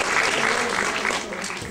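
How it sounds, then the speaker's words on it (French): An audience at a cosplay event applauds Breath of Fire cosplayers, a dense steady wash of clapping throughout with crowd murmur mixed in. "On les applaudit."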